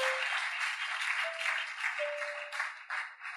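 A church congregation applauding: steady, fairly loud clapping from a crowd in a hall, holding through the whole moment with slight swells and no speech.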